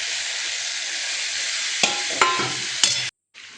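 A poppy-seed dish sizzles loudly and steadily in a pan after water is added, with a few sharp utensil clicks against the pan before the sound briefly cuts off.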